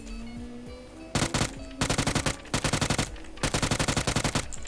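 Rapid automatic gunfire in the PUBG video game rattles out in several loud bursts after a quieter opening, each burst a fast string of shots.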